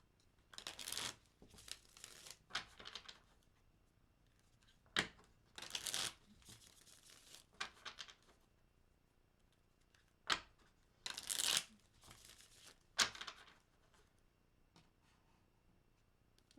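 Tarot cards being shuffled by hand in quiet surroundings, soft riffling and slapping bursts recurring irregularly with pauses in between, close and fairly faint.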